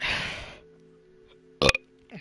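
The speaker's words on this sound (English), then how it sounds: "burp." A single loud, raspy burp opens, short and close, followed by quiet background tones and a couple of brief game sound effects.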